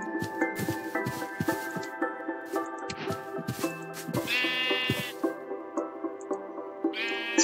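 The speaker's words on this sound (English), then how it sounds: "Oh, is there a sheep dying?" Sheep bleat repeatedly in Minecraft Java Edition 1.18.2 with a modpack, the distinctive game cries sounding close and clear over rhythmic blocky footstep and grass-walking thuds.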